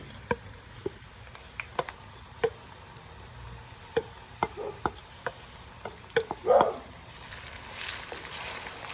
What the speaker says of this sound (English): Now I'm gonna put ginger garlic on it.